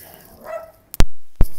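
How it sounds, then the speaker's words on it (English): A dog barks twice, loud and close, two sharp separate woofs about half a second apart after a quiet moment. "sorry, that's my dog."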